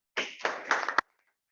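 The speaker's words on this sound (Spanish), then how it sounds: "Recibamos, por favor, con un fuerte aplauso a nuestra vicepresidenta educativa." A small group applauds to welcome an educational vice president at a club session, a short burst of clapping of under a second that ends with one sharp final clap and then silence.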